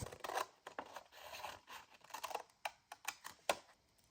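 Scissors snip through a paper card, cutting out a plaid and polka dots prompt piece; a quiet run of crisp, irregular cuts and rustles, growing sharper and more spaced near the end, with no talking.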